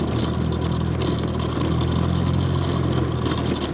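A 2017 Honda Vario scooter labours uphill on a mountain road, its engine droning steadily and loudly with rough, clattering wind buffeting over it the whole time.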